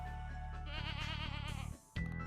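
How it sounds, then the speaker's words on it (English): A goat bleats in Stardew Valley, one long wavering call, clear and close, with a steady game background underneath and a short drop before the sound returns. "I love the sound of goats in this game."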